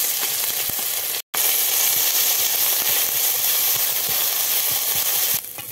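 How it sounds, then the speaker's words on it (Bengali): Ginger paste and green chili paste fry in oil with cumin seeds, a steady close sizzle and crackle that runs almost nonstop, broken only by one very brief cut near the start. "দেখো মশলাটা ভাজা হয়ে গেছে"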